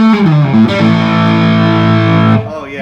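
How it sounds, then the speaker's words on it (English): A loud, sustained electric guitar note from an Epiphone Les Paul Standard 50s through a distortion pedal rings out after a quick sliding bend, buzzing and harmonically rich before stopping abruptly. "The distortion pedal that we're using here, Greg, why don't you talk about it?"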